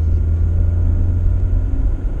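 Loud, close low engine rumble of a 2007 Toyota, holding steady as it's given gas, with no voices.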